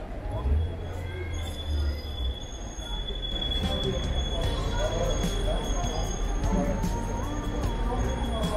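A Škoda low-floor tram runs along its line in Konya, wheels hissing and squealing faintly on the rails with a steady rolling rumble beneath, fairly distant and quiet while a voice speaks over it.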